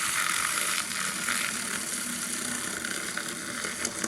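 A small coffee whisk mixes gum into plantain gel, giving a steady, close, fine whirring buzz that runs evenly throughout with no talking.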